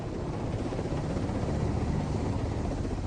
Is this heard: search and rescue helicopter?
yes